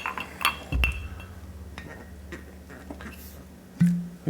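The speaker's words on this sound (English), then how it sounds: "So we drop it in the glass." An ice cube drops into a glass with a couple of sharp clinks, followed by smaller ticks and a final clink, close up with faint background noise.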